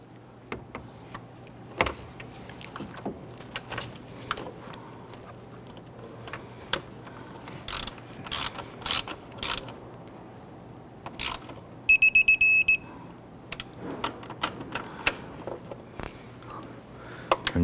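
Scattered ratchet clicks at a starter bolt on a 2011-2015 Kia Sorento, sparse and fairly quiet, with a steady low hum underneath and a short run of electronic beeps partway through.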